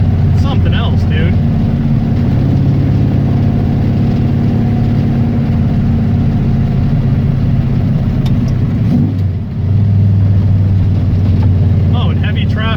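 A V8 engine fitted with a lawn mower carburetor drives in heavy traffic just off the interstate, its loud, steady rumble filling the whole stretch before dipping briefly and settling back toward idle near the end.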